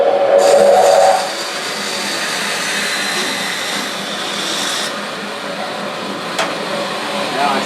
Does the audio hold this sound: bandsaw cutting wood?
yes